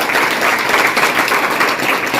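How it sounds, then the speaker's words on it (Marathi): A seated audience at a spiritual discourse claps loudly and continuously, a dense steady wash of applause filling the whole stretch without talk. "त्यांच्याकरता एकदा जोरदार टाळ्या वाजवा"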